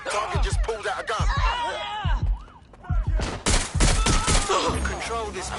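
Sharp bursts of gunshots crack out in the video game Watch Dogs Legion, irregular clusters of loud shots mixed with thuds, while voices speak between and over the shooting.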